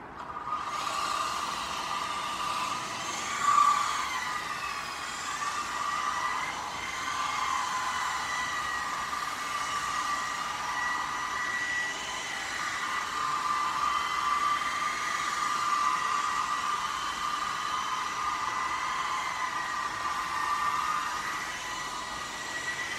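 A CSGOG BL 2.4GHz RC helicopter, model 9004G, hovers in a garden, its small electric rotor giving a continuous whirring whine that rises and falls slightly over the flight.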